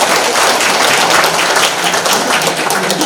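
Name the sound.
audience applause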